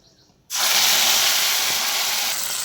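A ground paste of cumin, chili, ginger and tomato hits a hot pan and bursts into a loud, close sizzle that stays a dense, steady hiss until the end.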